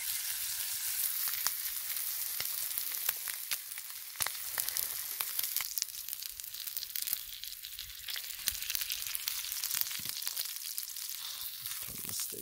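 Steak sizzles and fries steadily in a pan, a loud continuous hiss with scattered crackles and pops, no voices.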